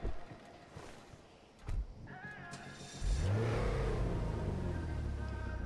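A Lexus RC F sports car engine in GTA V Online idles, then revs up sharply into a loud, sustained roar with a deep rumble that holds steady to the end.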